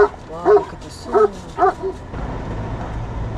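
A small puppy barks and yips in four quick high-pitched bursts outdoors at an off-road overlanding festival, close and loud, then falls quiet to faint background noise.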